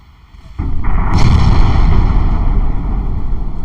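Naval gunfire from warships engaging enemy cruisers in the naval strategy game Ultimate Admiral Dreadnoughts, a loud, heavy broadband boom that starts suddenly and rolls on as a sustained rumbling roar with no talk.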